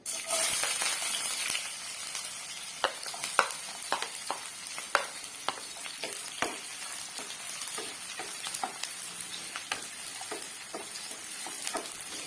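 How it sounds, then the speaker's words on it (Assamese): Onions sizzle steadily in a hot pan over high flame, with scattered sharp clicks and scrapes as they're stirred. "পিঁয়াজখিনি আমি ৰঙা হোৱাকৈ ভাজিম"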